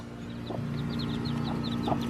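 Soft, repeated high cheeping from chicks over a low steady hum, with a couple of quiet clucks from a hen nearby.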